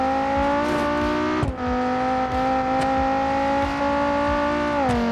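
Engine of the Howler car in BeamNG.drive revving hard and steadily, a strong harmonic drone that holds high with a brief dip mid-way, loud and close with no talk over it.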